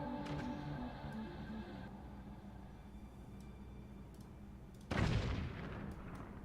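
Cannons fire in the airship strategy game Forts as a fleet of ten cannons faces a phase ship, giving a steady low rumble of distant booming. One louder, sharper blast lands near the end.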